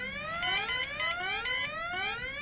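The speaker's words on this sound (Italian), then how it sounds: "Spegni quel dannato allarme!" An alarm blares in the video game Deponia, a loud rising electronic siren tone that repeats in sweeping cycles, heard alone with no talking.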